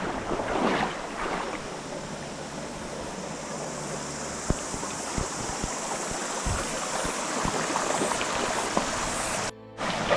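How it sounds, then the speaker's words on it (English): Fresh mountain stream water rushes steadily and close by, a constant broadband wash with a few brief splashes and knocks. "Nice fresh mountain water. Lovely."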